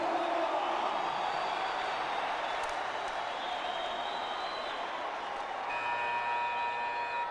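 A rowdy crowd roars at an international basketball game, Venezuela v Canada, in the 2019 FIBA World Cup Americas qualifiers. The dense, loud roar holds steady throughout, with thin whistle-like tones appearing near the end.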